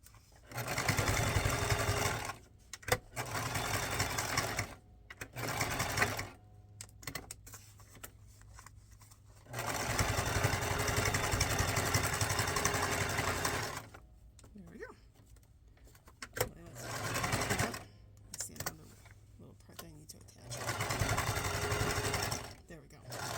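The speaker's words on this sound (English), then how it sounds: "I'm just sewing this wedding applique every which way but loose to get it attached on here." A sewing machine stitches a wedding applique onto fabric in several bursts of rapid, rhythmic whirring, separated by pauses, moderately close.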